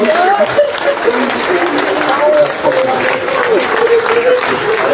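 Sustained, dense crowd applause at the funeral ceremony of veteran artist Frehiwot Bahru, steady and loud throughout, with a voice speaking over it.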